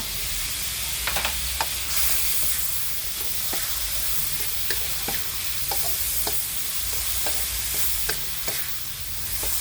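Pork stir-fried with holy basil and long beans sizzles steadily and loudly, with repeated scraping stirring strokes throughout and no voices.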